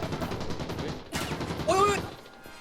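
Bursts of rapid gunfire in the video game Arena Breakout: Infinite, with sharp crackling shots and a short rising tone near the end.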